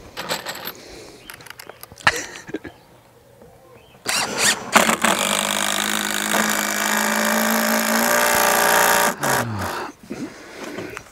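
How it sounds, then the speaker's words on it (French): A cordless power screwdriver drives screws while building a suspended extension, giving a loud, steady whirring run of about five seconds, with scattered knocks and handling clatter before and after. "Ici, une bonne visseuse, ça visse."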